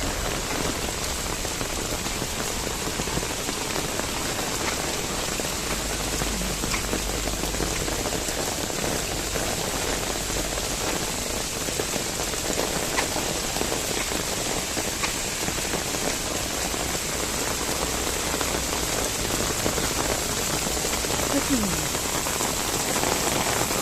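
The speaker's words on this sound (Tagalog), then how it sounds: "Lakas ng ulan, my goodness." Heavy rain pours down steadily in Hong Kong, a dense, continuous hiss of drops hitting surfaces that stays loud and unbroken throughout.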